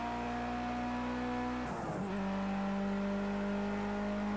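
A Mitsubishi Lancer in the Project Cars 2 racing game holds a steady droning engine note with a brief tyre-scrubbing dip and gear shift midway, continuous and fairly faint, with no talk.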